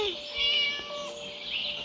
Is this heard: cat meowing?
yes